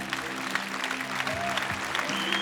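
Applause from an audience, steady clapping with a low hum underneath and a brief sliding tone.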